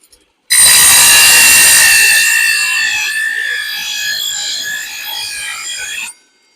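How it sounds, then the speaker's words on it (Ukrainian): A small circular saw starts up and runs loud and steady for about five and a half seconds, a bright whining drone with a harsh edge, then cuts off abruptly. No one speaks. "Я навіть не міг подумати, що такої маленької циркулярки така сила"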